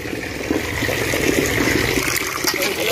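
Tap water pours steadily and loudly in a kitchen sink while tilapia fish are rinsed, a continuous close splashing rush with no voices.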